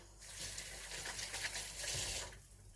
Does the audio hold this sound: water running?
yes